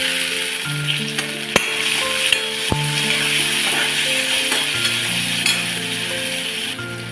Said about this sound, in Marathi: टोमॅटो पण आपण 1-2 मिनिटं छान परतून घेऊया